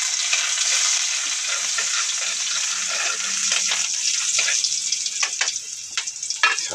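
Garlic and onion sauté in hot oil in a wok with a continuous crackling sizzle and stirring scrapes that grow more broken and uneven toward the end, with no talk.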